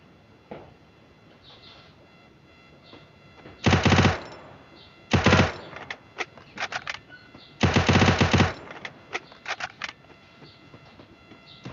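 Gunfire in a shooting video game: several loud bursts of automatic fire separated by pauses, mixed with fainter single shots and clicks, with no talk.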